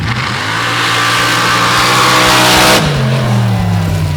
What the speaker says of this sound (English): Waldron looking for the championship at the wheel of this blown alcohol Chevy rail.